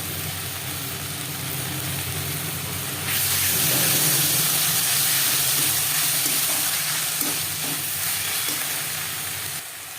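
Onion, garlic, ginger and green chili paste frying in a pan, a steady hiss that swells louder and brighter partway through as the paste hits the oil, with faint stirring scrapes beneath.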